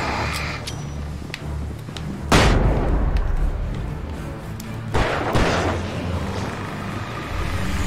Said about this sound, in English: Okay, flashbang!